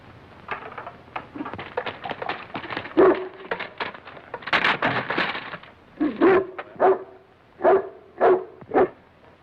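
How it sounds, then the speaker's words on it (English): A dog in a parked car yelps, whimpers and barks in a run of short, sharp bursts that grow louder and more insistent toward the end, close by with no other sound around it. "It's a dog."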